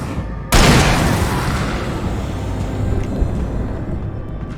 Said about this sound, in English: Did not realize this was the kind of shotgun it is.